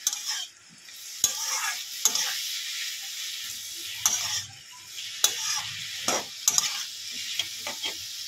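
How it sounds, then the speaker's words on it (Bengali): Pumpkin greens with a little cumin powder being stir-fried in a pan, a spatula scraping and knocking against the metal in uneven strokes over a continuous close sizzle, with no talking. "অল্প একটু জিরের গুঁড়ো দিয়ে দেবে, দিয়ে ভালো করে এবার এটাকে কষিয়ে নেবে।"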